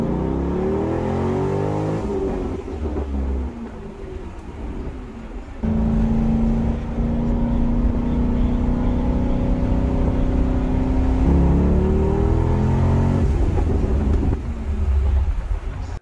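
A C6 Corvette on Continental tires accelerates hard during a tire test, its engine droning and rising in pitch through repeated gear pulls with brief shift dips, loud and close, with no talk.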